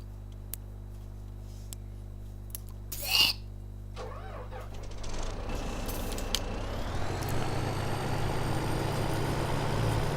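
A truck in Farming Simulator 17 idles low, then, after a short hiss and clatter, its engine revs up into a steady, loud drone during unloading.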